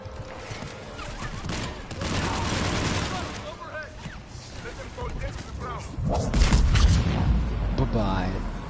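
Laser beam weapon firing in the video game Mass Effect 3, sustained blasts and booming combat noise rising and falling over several seconds, with someone talking over the action.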